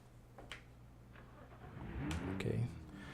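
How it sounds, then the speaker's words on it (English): A car engine in the Baja competition video game WOSSOM cranks over and starts, then rises into a growling rev that swells and holds near the end, with a voice talking faintly beneath it. "Let me start the engine."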